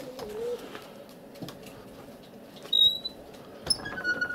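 Soft pigeon cooing rumbles low and continuous, with a few brighter chirps and light rustling near the end.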